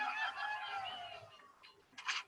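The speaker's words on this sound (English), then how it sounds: "you pull out your phone and play a few games of Angry Birds" Angry Birds game sounds from a phone: chirpy, clucking bird-like cartoon voices followed by a short bright burst, fairly close and moderately loud.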